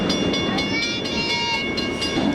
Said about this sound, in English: there must have been, I think, 80 or 90 train cars on this one